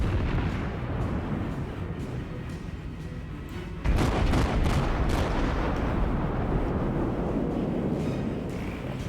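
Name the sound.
cruiser Cleveland firing gun salvos in World of Warships video game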